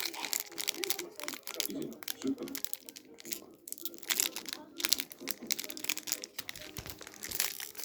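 A parcel being opened by hand: close, busy crinkling and rustling of packaging with occasional tearing, while a person talks quietly.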